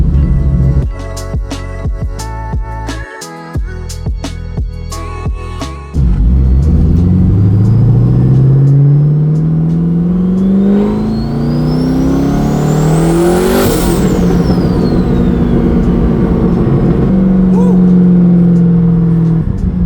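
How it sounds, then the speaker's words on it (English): A twin-turbo 1100 hp C6 Corvette Z06 accelerates hard on a road run, its engine note rising loud and close through the gears with a sweeping pitch climb, preceded by a few seconds of sharper clatter and a brief dropout. "I always like to drive like a 1/4 mile and then make sure we're not losing a tire or losing a fender."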